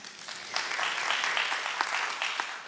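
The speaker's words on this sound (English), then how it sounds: "one more clap for them." Audience clapping for musicians at an event celebrating the rise of Africa, a steady wash of applause, moderately quiet and somewhat distant, lasting a few seconds with no voices.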